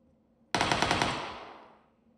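A short, rapid burst of automatic gunfire from the PUBG battle royale game, about six quick shots fired close together, then a long reverberant tail fading over roughly a second and a half.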